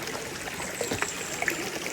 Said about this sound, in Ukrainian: як співає гірська річка. Це зараз потічок